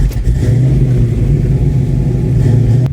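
Steady, loud engine rumble from a 351 Windsor V8 in a Fox Body Mustang fitted with Flowmaster 50 series mufflers, a continuous low drone heard from inside the car with no talking.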